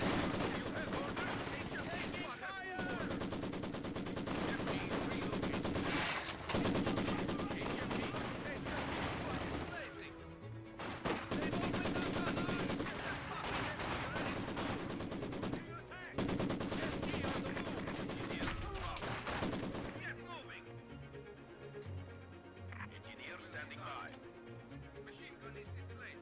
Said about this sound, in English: That looks like a good spot for the MG.